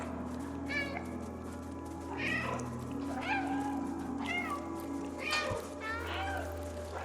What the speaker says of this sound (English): you can get a trophy for meowing 100 times